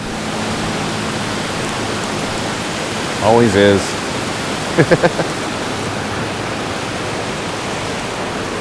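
Continuous broadband rushing of water at a spillway waterfall, steady and loud throughout, with a few brief voices and chirps over it.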